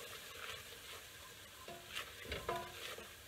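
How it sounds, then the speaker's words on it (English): Flour cooking in a pan for a roux over medium heat, stirred continuously; a faint, soft sizzle carries a few gentle scrapes of the utensil, with no voices. "I'm going to let that cook off for a few minutes until it reaches a sandy texture, stirring it continuously."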